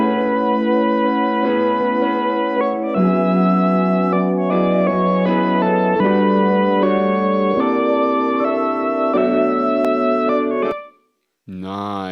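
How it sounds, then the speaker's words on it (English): A synth lead patch from Analog Lab plays held notes over a sustained chord bed, loud and continuous, cutting off near the end before a brief different tone. "just got this nice Analog Lab sound up for a nice little synth lead."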